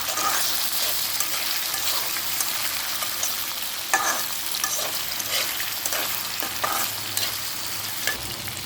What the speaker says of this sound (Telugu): వీటిని హై ఫ్లేమ్లో వేయించుకోవాలి